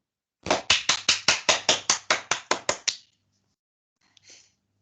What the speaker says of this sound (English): please a round of applause for our speaker this afternoon.